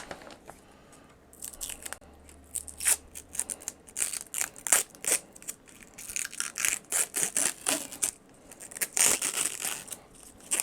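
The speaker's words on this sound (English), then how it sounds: "Let's do the peel thing." Protective plastic film is peeled off a new EVGA RTX 2070 FTW3 Ultra graphics card in a series of crisp crackling tearing bursts, close and fairly loud, coming in irregular clusters.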